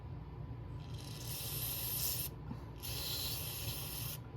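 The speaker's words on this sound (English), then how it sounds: "So I usually just spray these out," Two long bursts of aerosol spray cleaner hiss into the carburetor of a Homelite string trimmer, the first about a second and a half, a short gap, then a second equally long blast, close and loud over a low steady hum.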